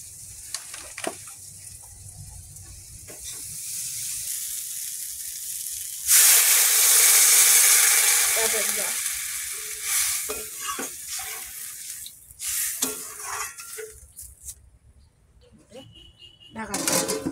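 Oil in a kadai sizzles with a strong burst of frying that flares midway and then fades into uneven crackles and stirring clatter, with voices talking nearby before and after.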